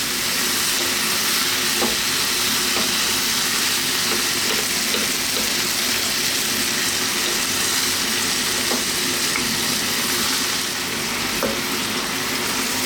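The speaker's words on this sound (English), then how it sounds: "I'm going to go for another sort of 2 to 3 minutes, stirring again all the time." Continuous loud sizzling as chicken, vegetables and noodles are stir-fried in a hot pan, a steady hiss of frying with occasional soft stirring scrapes and no talk.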